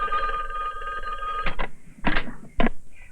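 An old telephone rings at a hotel room service desk, three short bell bursts spaced about half a second apart, loud and close over a steady electrical hum.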